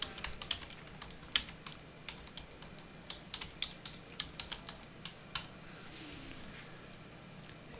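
Keys on a computer keyboard tapped in short irregular bursts while notes are typed into tax preparation software, fairly close and moderately quiet with brief pauses between clusters of keystrokes.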